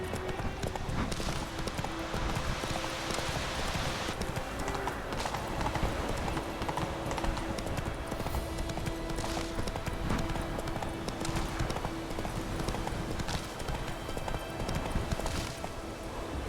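Roach, the horse in The Witcher 3, gallops steadily with a continuous, even clip-clop of hooves throughout, set over a constant in-game ambient bed.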